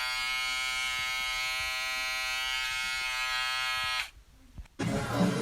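Wahl travel foil shaver running close up with a steady high-pitched electric buzz for about four seconds, then switching off before a brief rustle.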